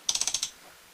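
A ratchet wrench tightens a chain rivet on a ZRX1200S motorcycle: six quick, crisp metallic clicks in an even rhythm, close and fairly loud, then near silence.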